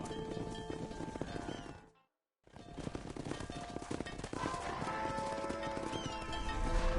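Clip-clopping horse hooves and a whinny from the Red Dead Redemption game, loud and busy, with a brief silent gap before the galloping resumes over game sound.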